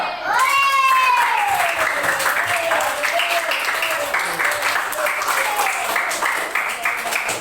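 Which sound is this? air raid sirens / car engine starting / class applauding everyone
class applauding everyone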